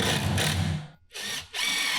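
A power drill drives 1 5/8 inch screws into wood, giving two loud whirring bursts with a short pause between them, close up and with no talk.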